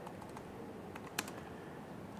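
Keys on a computer keyboard click softly in a quick, uneven run while a git commit command is entered, with one sharper keystroke in the middle.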